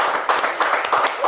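A few hands clap in a quick burst of sharp, close claps, five or six beats in a little over a second, loud and lively with a voice mixed in.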